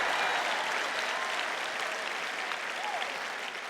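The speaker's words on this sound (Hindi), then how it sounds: "यदि आपला ताली बजाना है तो पूरा उत्साह से बजाओ" An audience claps at a public talk, a steady wash of applause that holds evenly for nearly four seconds, slightly distant and moderately loud, with no voices over it.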